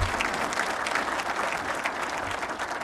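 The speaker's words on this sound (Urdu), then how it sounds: "بھائی تالیاں لگائیں" Loud, sustained audience applause fills the hall during a speech by Prime Minister Shehbaz Sharif announcing lower electricity prices, a dense wash of clapping without pause.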